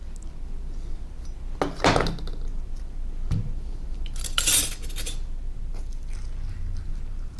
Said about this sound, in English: we're going to be adding a scoop of avocado